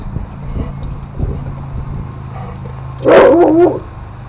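A dog barks in a short cluster near the end, loud and close, after quieter thumps and rustling.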